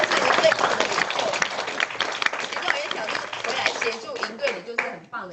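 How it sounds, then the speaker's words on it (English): An audience at a winter camp leadership talk breaks into sustained applause, a dense wash of clapping filling the hall before it thins out toward the end. "So let's give them a round of applause."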